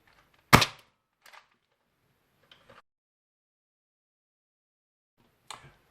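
A gun fires a single sharp, loud crack near the start, followed by a few faint clicks and taps, then a softer snap near the end, with near silence between.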